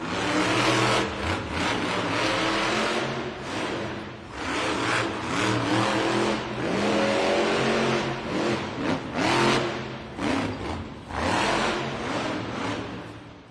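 A Monster Rottweiler monster truck at a Monster Jam freestyle event in an Oakland arena, its engine refired and revving hard, loud and continuous with surging throttle swells throughout.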